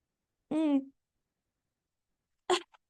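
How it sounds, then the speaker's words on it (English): A single sharp sneeze with a voiced onset, followed after a pause by a brief, sharp second burst. "Sneezing hurts so really bad right now."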